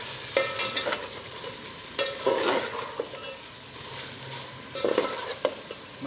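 Mutton tripe (ojri) stir-fried with garam masala in a pan, a steady close sizzle broken by bursts of scraping as the spoon stirs and turns the pieces, with no voices.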